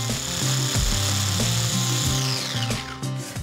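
Garlic cloves and ginger whizzed into a paste for an Indian lamb rogan josh, a loud, continuous motorised blender whir with shifting pitch that runs throughout without speech.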